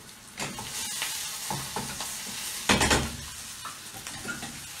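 Onions browning in a pan for a vegetarian red pepper and sundried tomato pâté, a soft sizzle broken by spatula scrapes and light clinks of utensil on pan, one louder knock near the end.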